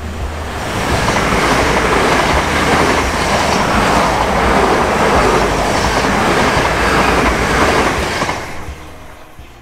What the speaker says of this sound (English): Train's just gone by